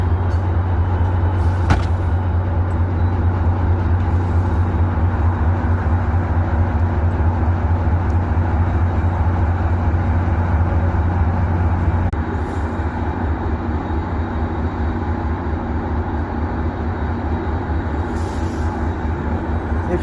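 A MARC double-decker commuter train rumbles steadily past at close range at a station, a low heavy drone with rattling wheels that eases slightly partway through; no talking.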